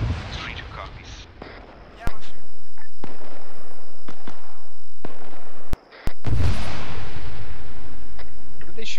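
Bursts of ArmA 3 gunfire crackle through a military combat scenario, sharp repeated shots and heavy loud volleys, with radio-style voices talking over the firing.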